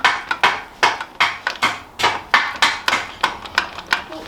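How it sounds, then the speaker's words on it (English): Chisel chipping rust off the rear axle of a small Willys-style kids' jeep build: a rapid, steady series of sharp metallic strikes, about three per second, close and loud with no talk. "And the bits that don't move with the wire brush, just chip it away with the chisel."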